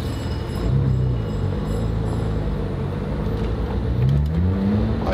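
A drift car's engine revs hard and climbs toward 9,000 RPM, a steady loud drone that rises in pitch twice as the car drives along, with no talk over it.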